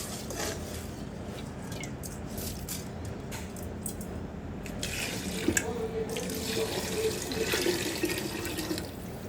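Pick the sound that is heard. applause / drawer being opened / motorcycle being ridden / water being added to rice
water being added to rice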